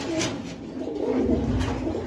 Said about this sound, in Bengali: এখানে এক জোড়া চুয়ে চন্দন কবুতর